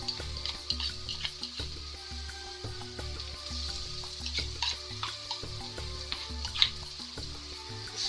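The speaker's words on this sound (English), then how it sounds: "So now to this I'm going to add in the tomato sauce and the tomato paste mixture." A tomato sauce and tomato paste mixture hits sautéed ginger-garlic paste in a hot pan for chana masala and sizzles steadily, with stirring scrapes and bubbling throughout, close and moderately loud.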